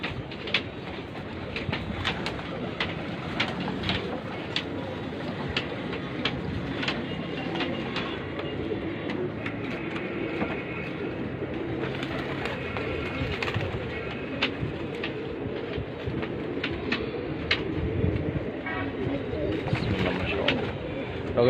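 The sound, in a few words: pigeons cooing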